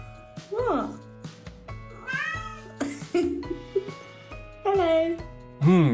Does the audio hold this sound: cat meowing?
yes